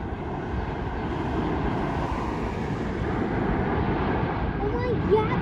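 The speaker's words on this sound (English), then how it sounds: "I see one taking off. Boeing 787 Dreamliner." A Boeing 787 Dreamliner taking off gives a deep, steady, broadband jet rumble that slowly builds, mixed with wind buffeting the microphone and occasional nearby voices.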